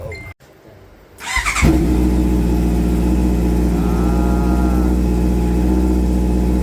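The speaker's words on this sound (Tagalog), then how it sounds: "Isil full exhaust with DB Killer Racing Carbon Honda CBR 650R with 600 Odo" A Honda CBR650R motorcycle with about 600 km on it and an Ixil full carbon exhaust with dB killer fires up after a brief click, then settles into a loud, steady, throaty idle close by.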